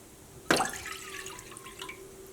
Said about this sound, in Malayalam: അതിന് വേണ്ടിയിട്ട് ഈ പാത്രത്തിലേക്ക് വെള്ളം ചേർക്കാം.